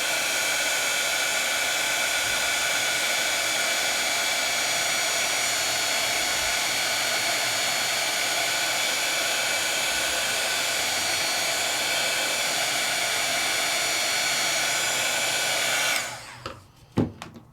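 A heat embossing tool blows a steady, loud, airy whir while melting embossing powder on a papercraft project. It runs unbroken for about sixteen seconds, then cuts off, followed by a few small clicks and handling sounds.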